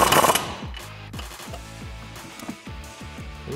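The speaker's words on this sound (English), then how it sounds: "Tighten up using an 18 millimeter." Wrench tightening a bolt on the front suspension of a 2007-2014 Mustang GT500, a quick rhythmic ratcheting clicks repeated in short bursts close by, after a brief louder clatter at the start.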